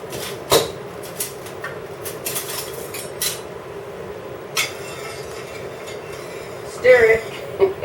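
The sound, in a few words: stirring salted spaghetti pasta in a pot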